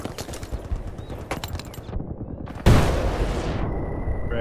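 A frag grenade explodes in Battlefield: Bad Company 2 on PC: a sudden loud, close blast about halfway through that rumbles and fades over a second or two, after a stretch of scattered gunfire and battlefield noise.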